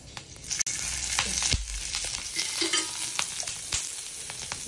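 Masala paste roasting in a little oil in a pan for chicken kharda gives a steady close sizzle and crackle, with occasional sharper spatters and stirring scrapes throughout.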